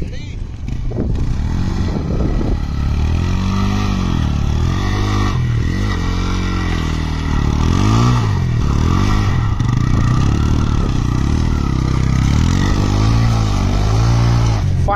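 A TVS Raider 125 motorcycle rides off-road, its engine droning loud and close with rising and falling revs, mixed with clattering and scraping from rough terrain.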